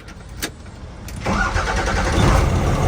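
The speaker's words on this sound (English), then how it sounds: "Boom. Started right up." A 12-valve truck engine cranks over briefly after a starter repair, then catches and settles into a loud, close, rumbling idle that holds steady to the end, preceded by a couple of faint clicks.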